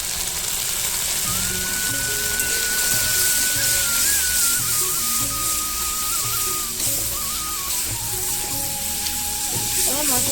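Ground spices with salt, turmeric and cumin frying in a pan for a Bengali-style egg curry, a steady close sizzle running throughout with faint tonal ringing on top and no talking.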